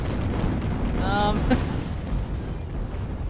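Mortar shots boom through a video game battle, a deep rumbling impact that spreads across the short moment, with a voice talking over it.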